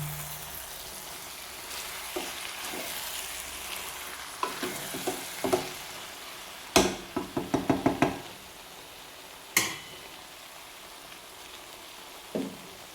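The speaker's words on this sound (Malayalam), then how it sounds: "ചെറിയ ഉള്ളിയും തേങ്ങയും കൂടെ ചതച്ച് കൊണ്ടുവന്ന് അതങ്ങോട്ട് ഒഴിച്ചു" Crushed shallots and grated coconut go into a pan for avial, heard as quiet stirring and scraping with a scattering of sharp knocks and clatters against the pan, a soft sizzle underneath.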